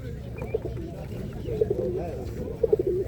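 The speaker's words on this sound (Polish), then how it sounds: "Lętaczki żerowe, też ładne ptaki." Pigeons cooing at an outdoor pigeon market in Ełk, Poland, repeated soft coos over steady crowd murmur and distant talk.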